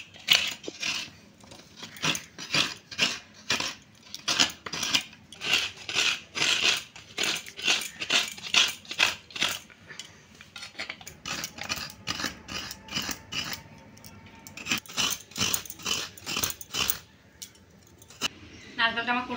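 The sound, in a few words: coconut being grated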